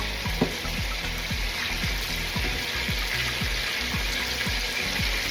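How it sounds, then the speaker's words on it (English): Chicken pieces for Jamaican fricassee fry in a pan with a steady, close sizzle, while a utensil taps and scrapes the pan in a regular rhythm underneath. "we need to give them space so that they can fry properly."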